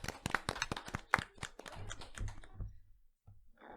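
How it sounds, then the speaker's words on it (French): A small group claps briefly on a television show, a burst of sharp, close hand claps that quickly tapers into scattered taps and then a lull. "on applaudit"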